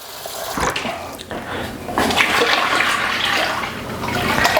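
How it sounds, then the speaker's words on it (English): Liquid pours into a beer brewing fermenter to top it up, making a loud, close, rushing and splashing flow that builds and continues steadily without talk. "I'm going to add some more liquid to it just to bring it up to the 23"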